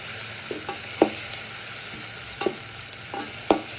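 Ginger garlic paste frying in a pan for chicken biryani: a constant low sizzle with a few scattered spatula knocks and scrapes, close up and fairly quiet, no talking.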